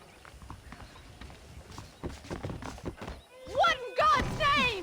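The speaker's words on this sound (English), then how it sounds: "The horses are saddled up over here." Horse hooves clop in a steady walking rhythm in the video game Red Dead Redemption, joined by a bright whinny toward the end, with talk over the hoofbeats.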